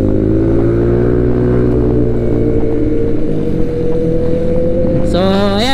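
Big bike motorcycles on a group weekend Easter Sunday ride, a loud steady engine drone with wind buffeting, pitch climbing in a rising rev near the end.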